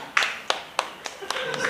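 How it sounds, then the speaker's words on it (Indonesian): A small comedy-show audience gives a few scattered claps, about half a dozen separate sharp hits spaced out rather than full applause, fairly close. "boleh minta tepuk tangan?"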